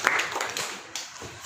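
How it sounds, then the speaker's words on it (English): A class of students claps together in a classroom, a short burst of dense applause that fades and briefly swells again. "Okay, clap for her again."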